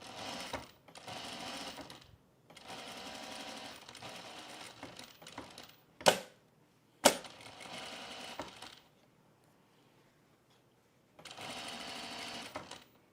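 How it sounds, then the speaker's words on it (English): A sewing machine stay stitches three fabric layers of a bralette around the perimeter in several close, steady whirring runs, broken by two sharp clicks and a silent pause. "I'm just gonna stay stitch all 3 layers together around the perimeter at an 1/8 inch"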